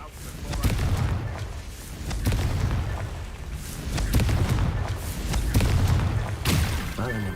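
Confringo blasting spell in Hogwarts Legacy goes off as a series of heavy booming explosions that swell and fade across several seconds of loud, continuous battle noise.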